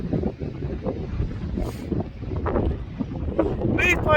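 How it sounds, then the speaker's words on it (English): Wind at a seaside beach gusts and buffets against the microphone, a rough, fluttering rumble that continues throughout and swells toward the end. "Wow, it's windy."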